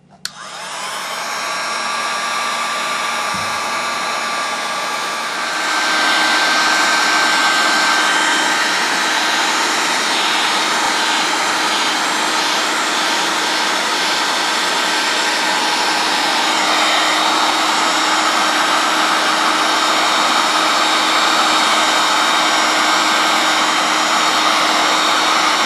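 A heat gun set on low blows a steady, loud whooshing roar as it heats a spot on a leather craft piece. The sound has a whining tone, rises a notch after a few seconds, then holds constant.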